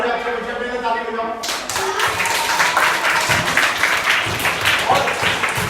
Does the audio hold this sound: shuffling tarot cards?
no